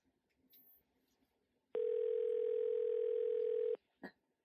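A house phone call gives one steady electronic ringback tone, about two seconds long, loud and clear against a quiet room, with faint small noises before and after it.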